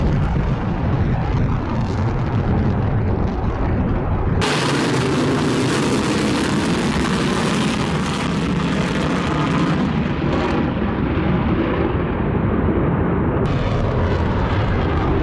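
A rocket launch roars loud and continuous, a dense broadband rumble that swells abruptly partway through into a harsher, brighter blast, then eases slightly near the end, with no voices over it.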